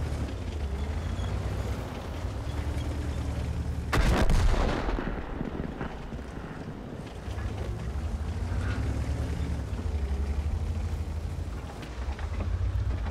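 One booming cannon blast from a KV-2 tank in World of Tanks, sharp and loud, rising over a steady engine rumble that continues throughout.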